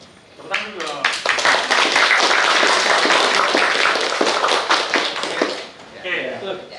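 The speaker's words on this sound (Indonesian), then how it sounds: "Tepuk tangan dulu." A crowd at a family halal bi halal gathering for Geprek Mantul at MesaStila breaks into brisk, dense applause lasting several seconds, loud and close, with voices talking over the end.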